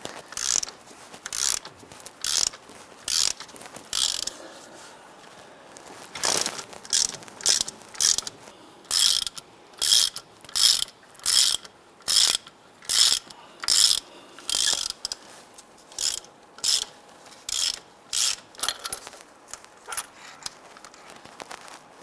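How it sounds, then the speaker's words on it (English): Harmonic balancer being pulled off the crankshaft of a 2002-2008 Dodge Ram 1500, giving a long run of loud, evenly spaced ratcheting clicks close up, steady in rhythm throughout. "you can feel it and see the harmonic balancer sliding off the crankshaft"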